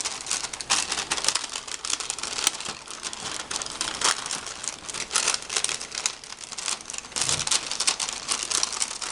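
Glassine paper bag being folded along its score lines, giving a continuous close crinkling and crackling with small sharp snaps, dense and steady throughout without speech.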